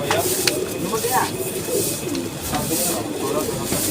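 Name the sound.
pigeons cooing at a pigeon market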